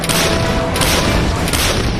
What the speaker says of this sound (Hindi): आज हम आपको आज तक पर एक्सक्लूसिव एक ऐसी हावित्जर तोप की फायरिंग दिखाने जा रहे